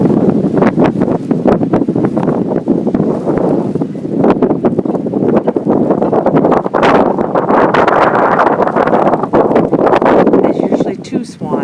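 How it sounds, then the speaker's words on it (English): Strong blizzard wind buffeting the microphone outdoors, a loud continuous roar with gusty rumbles and rustling, while a person speaks. "Wind is definitely picked up."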